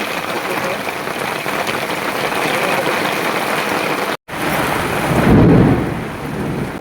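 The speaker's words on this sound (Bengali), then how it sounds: "আর বাজ পড়ছে, মেঘ ডাকছে, যাত্রার অবস্থা।" Heavy rain pours steadily in a dense, loud wash during a thunderstorm, with a low rumble of thunder swelling near the end after a brief dropout.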